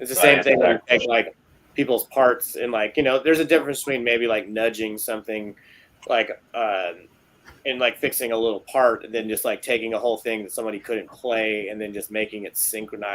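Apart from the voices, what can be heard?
None of the usual background noises is heard.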